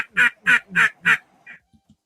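A duck call is blown to mimic a duck, giving four loud, evenly spaced nasal quacks, then a softer fifth and a couple of faint clicks.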